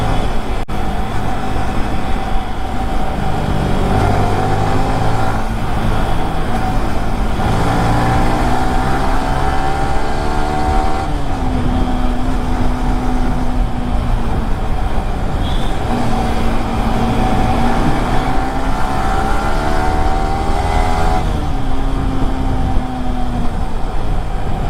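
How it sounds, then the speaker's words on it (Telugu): Dense city traffic rumbles around a Yamaha R15 V3 motorcycle on a night ride. Engines rise and fall in pitch as vehicles accelerate and pass, under a constant loud roar of road and wind noise. "ఇంత ట్రాఫిక్."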